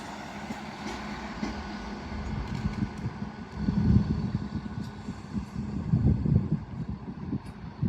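A train pulls out of Doncaster station, an LNER service from Hull to London King's Cross, with a steady low rumble and rolling rail noise that swells twice as the carriages move off.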